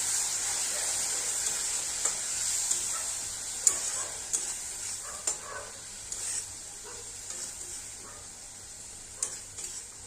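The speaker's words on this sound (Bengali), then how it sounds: "দু মিনিট এরকমভাবেই ভাজা ভাজা করে নেবো" Fish in a spicy oil gravy sizzling steadily in a pan, with occasional scrapes and taps of the spatula during stirring, close and moderately loud, no voices.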